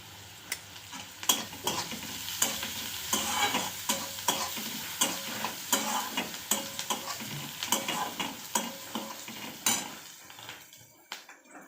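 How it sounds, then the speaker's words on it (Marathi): Onion with turmeric and a little salt sizzles on a low flame in a pan for gavar bhaji, while a spoon stirs and scrapes in repeated close clinks over a steady frying hiss, with no talk. "कांदा परतत आलेला आहे, ब्राऊन दिसायला लागलेला आहे"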